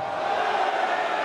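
Arena crowd at a 2017 Champions League of Darts semi-final between Anderson and Taylor, a steady massed roar of many voices sustained throughout, fairly loud with no single voice standing out.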